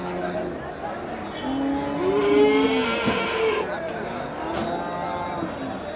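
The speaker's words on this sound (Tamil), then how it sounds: "நல்ல மாடு" Cattle moo loudly with long, drawn-out calls over a busy crowd at the Melapalayam cattle market, as people talk in the background.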